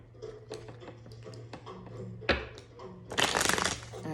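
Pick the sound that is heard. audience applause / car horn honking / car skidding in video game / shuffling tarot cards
shuffling tarot cards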